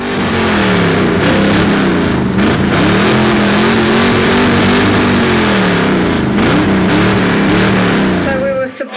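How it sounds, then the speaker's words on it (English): A ute's exhaust revved hard in a loudest-exhaust competition at a rural show and ute muster, a loud, sustained roar with rising and falling revs that drops off abruptly at the end. "The Ute Muster competition included loudest exhaust revving"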